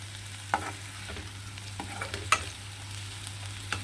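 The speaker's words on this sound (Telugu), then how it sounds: "దుంపలు వేసుకుని బాగా ఫ్రై అవ్వాలి." Potatoes and onions fry softly in a pan, a quiet steady sizzle broken by a few sharp clicks of stirring, with no talk.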